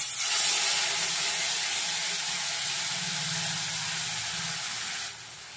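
Ground mustard and green chili paste hits hot oil in a pan for a Bengali parshe fish curry, giving a steady broadband sizzle and hiss that holds for about five seconds, then drops off slightly near the end.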